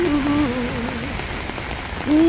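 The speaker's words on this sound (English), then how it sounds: "Thank you for the rain." Steady rain falls in a constant, fairly loud hiss of drops on surfaces, briefly overlapped by a voice-like tone at the start and end.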